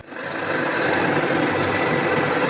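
A metal lathe turns a bearing-seat part held between centres, giving a steady, close whirring hum that rises in the first moment and then holds even throughout, with no talk.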